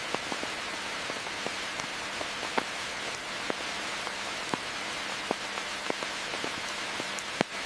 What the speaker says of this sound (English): The constant rain makes foraging difficult